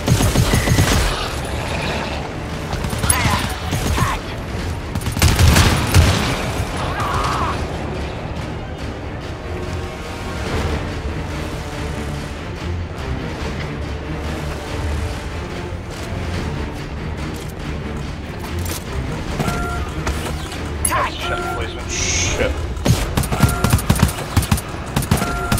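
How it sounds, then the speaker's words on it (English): Light machine gun fire in the co-op horror shooter GTFO, loud sustained bursts of automatic fire mixed with booms and mechanical clatter, continuing densely for over twenty seconds. "Engaging with LMG."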